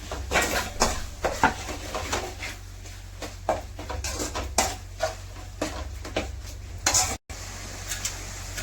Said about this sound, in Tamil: இந்த டைமில் ஒரு 4 வெங்காயம், 4 தக்காளி சேர்த்துக்கலாம். வெங்காயம் வதங்கணும்.